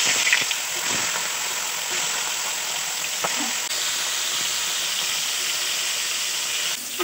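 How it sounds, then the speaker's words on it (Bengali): Fish heads fry in hot oil, giving a steady, close hiss of sizzling that carries on evenly with a few faint clicks and pops. "এখানে আমি তেল দিয়ে দিচ্ছি মাছের মাথা ভেজে নেওয়ার জন্যে।"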